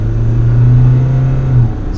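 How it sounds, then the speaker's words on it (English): Mahindra Scorpio N SUV engine pulling hard from a stop on a busy highway, a steady low drone that rises slightly and holds for most of the clip before easing off, heard from inside the cabin. "Let's check out acceleration"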